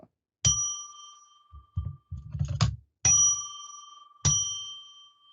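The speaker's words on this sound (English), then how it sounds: "I'm going to ring a bell 3 times now to declare sacred space" A small bell rings three times with clear ringing tones that fade out, with some clanking and handling noises as the bell sticks between the second and third strikes.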